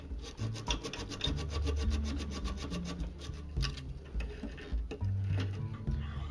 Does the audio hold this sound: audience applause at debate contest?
no